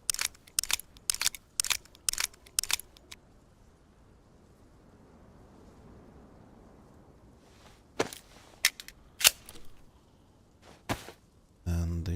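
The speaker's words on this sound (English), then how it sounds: "This gun's damaged, so be it. Let's reload it at least." A damaged gun is reloaded in a survival video game, with sharp metallic clicks and clacks in quick bursts, then a quiet stretch, then more scattered clicks.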